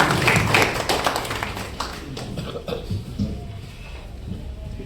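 Audience clapping at a live Urdu poetry mushaira, a loud burst of applause at the start that gradually thins out, with a few scattered claps and murmuring voices in the room.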